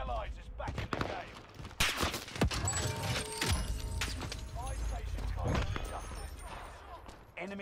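Gunfire in Call of Duty Warzone, bursts of rapid automatic shots and single cracks coming in irregular volleys over several seconds, fairly loud, with a voice talking over parts of it.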